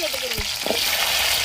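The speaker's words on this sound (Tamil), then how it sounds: "வெள்ளைப்பூடையும் சேர்த்துக்கணும்." Garlic fries in hot oil alongside small onions and curry leaves, giving a brief, dense, close sizzle punctuated by a couple of stirring knocks.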